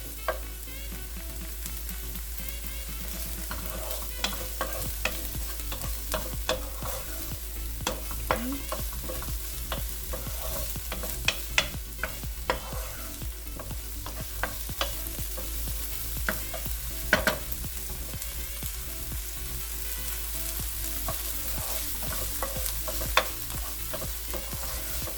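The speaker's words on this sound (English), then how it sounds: "And we're going to give that a saute. Get that nice and caramelized." Vegetables, onions among them, sauté for shepherd's pie, a steady frying sizzle running the whole time with frequent sharp clicks and scrapes of stirring against the pan, fairly close and with no voices.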